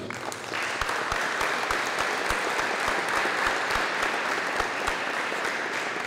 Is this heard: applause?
yes